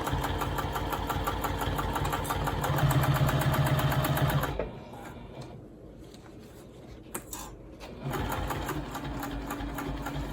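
A sewing machine stitches through layered fabric of a banana bag in a long, fast, steady run, pauses briefly, then starts stitching again, close and loud.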